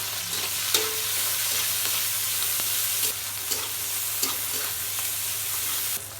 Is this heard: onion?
yes